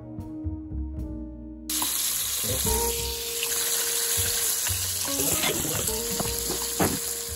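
Meat rubbed with oil and garlic powder sizzles in a frying pan with a steady, close hiss. Faint stirring and clatter are heard, and a short musical passage comes before it.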